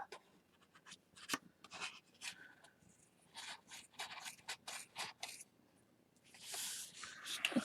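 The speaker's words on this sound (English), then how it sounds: "I need to cut across the top." Scissors cut across yarn strands on top of a loom-knit mug rug, giving a quick series of soft snips, rustles and scrapes close by, fairly quiet, ending with a louder brushing rustle.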